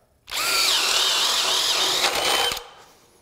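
A DeWalt Power Detect cordless drill bores into wood with a 1-inch spade bit, giving a loud, close, steady whine that starts abruptly, strains slightly near the end and stops sharply after about two seconds.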